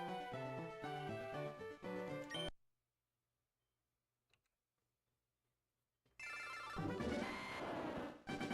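Phone ringtone playing before a voicemail, a loud melodic electronic ring that cuts out into near silence, then sounds again, with no talk.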